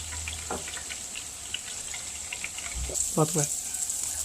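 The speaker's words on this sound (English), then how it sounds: "I got the last of the prawns cooking" A steady hiss of prawns frying in a pan runs throughout, with brief indistinct voices talking over it now and then.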